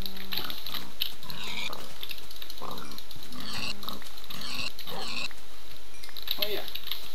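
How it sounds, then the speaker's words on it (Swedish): Minecraft pigs grunt and oink repeatedly in short bursts in a video game, heard mid-level and clear over a steady background hum, with a person talking in between. "Där är mina grisar."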